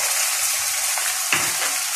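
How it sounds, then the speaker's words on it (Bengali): Ginger-garlic paste hitting hot oil in a pan, a steady bright sizzle throughout with a louder splutter and stirring scrape partway through, close and alone. "দিয়ে দিচ্ছি পরিমাণ মতো আদা রসুনের পেস্ট।"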